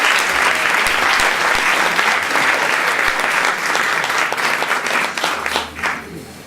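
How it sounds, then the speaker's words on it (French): An evening event audience applauds the VJ with a loud, dense burst of clapping that stays strong, then thins out toward the end with some voices mixed in. "Alors, Sébastien, oui, on peut l'applaudir"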